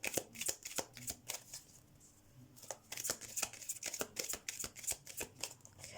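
A Romance Angels oracle card deck is shuffled by hand, making quick riffling, flicking bursts in an uneven rhythm, close and fairly quiet.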